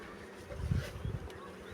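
Low, droning buzz of honey bees at a hive swelling and fading in a couple of soft pulses, fairly quiet with a faint background hiss.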